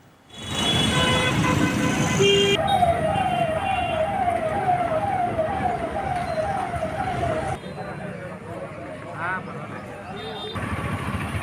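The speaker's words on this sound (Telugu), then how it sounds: "పట్టణం ఎటువైపు చూసినా పోలీసు కవాతు, పోలీసు సైరన్లు వినిపిస్తున్నాయి" Police sirens wail through the town of Jammalamadugu in Kadapa district during a tense security deployment, with a rising-and-falling cycling tone that is loud and close, and a horn toot near the start, under a voice talking.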